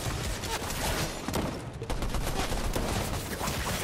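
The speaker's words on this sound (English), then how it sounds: "Oh, somebody else is shooting me." Rapid gunfire in the video game Fortnite, aimed at the player, forms dense overlapping bursts of shots that run continuously and loudly through the whole stretch.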